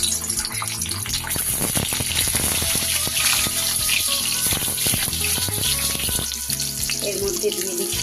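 Eggs sputter in hot bran oil while egg do pyaza is being cooked. The sizzle is loud, dense and watery, crackling continuously from start to finish.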